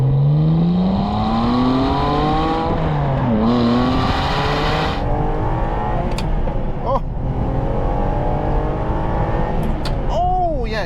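A manual Ferrari 612 Scaglietti pulls hard along a clear road. The engine is loud and rises steadily in pitch through the gears, with brief dips at each shift, and keeps a smooth, constant roar from start to finish.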